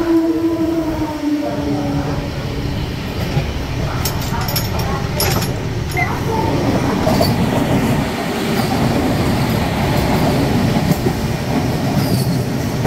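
The Varanasi Vande Bharat Express rushes past, loud and close, with a continuous rumble of wheels, rhythmic clatter over rail joints and some squeal, while a person talks faintly in the background.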